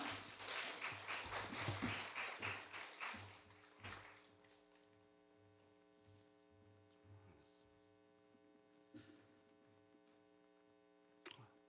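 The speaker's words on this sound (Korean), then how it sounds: "우리 박원규 장로님 나오실 때 우리 박수로 맞아 주시기 바랍니다." A church congregation at an early-morning service claps to welcome an elder coming forward, a few seconds of fairly faint group clapping that fades out, leaving a steady electrical hum and a couple of stray knocks.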